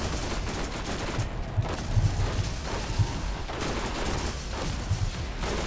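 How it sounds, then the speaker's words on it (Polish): Gunfire and explosions in the video game Borderlands crackle in rapid fusillades, with sharp bursts and booms recurring across several seconds of dense action. "jakie wybuchy, co się tam dzieje?"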